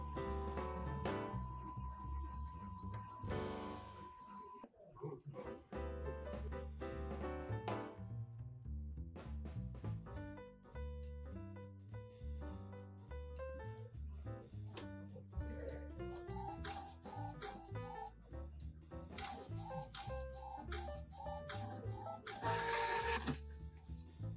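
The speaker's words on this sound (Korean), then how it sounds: "껐다 키면은 자동으로 청소를 또 지금 해요." An Epson L1300 A3 inkjet printer runs its automatic head-cleaning cycle after being switched back on, a quiet, continuous stretch of motor whirs, tonal whines and mechanical shifts heard up close without talk.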